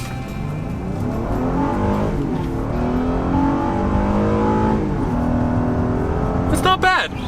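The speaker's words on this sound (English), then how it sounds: "Honda also tuned the exhaust to sound a little more aggressive" A 2019 Honda Passport SUV with an exhaust tuned for a more aggressive note revs up and down, rising and falling engine tones held steadily loud and close, ending with a brief sharp squeal-like sound.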